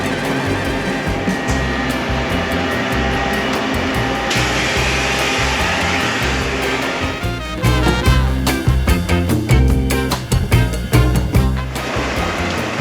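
Very wet concrete rushing down a 6 m chute on a rainy day at an old workshop pour, a loud continuous roaring, sloshing wash that surges and turns rougher and more clattering partway through, with no talk.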